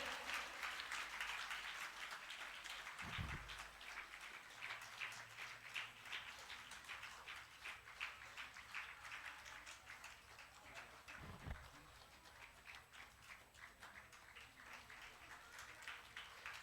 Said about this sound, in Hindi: इनके लिए जोरदार तालियां बजाकर अभिनंदन करें